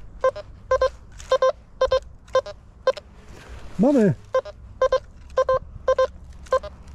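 An XP Deus 2 metal detector sweeps over an iron nail, sounding a regular series of short, loud electronic beeps; one word of speech breaks in briefly midway.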